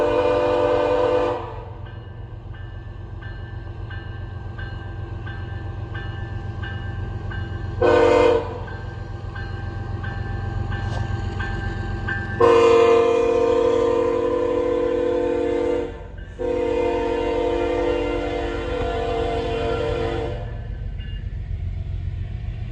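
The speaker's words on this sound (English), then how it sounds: "That horn sounds a hell of a lot better." A locomotive on a passing coal train operated by the Alabama Power Company sounds its horn in several long, loud blasts over a continuous low rumble of rolling railcars.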